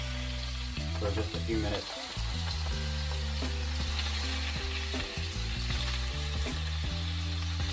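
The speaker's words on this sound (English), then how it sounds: "We're just gonna sear the fish" Lingcod pieces sear in a hot pan with a steady, close sizzle that runs throughout, joined by a few scraping stirs and someone talking over the cooking.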